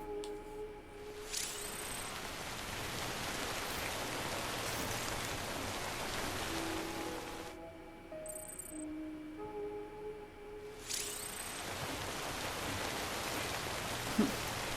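Timefall rain falls steadily in the video game Death Stranding, a soft even hiss of rain on surfaces with faint tonal game sounds drifting in and out, no voices.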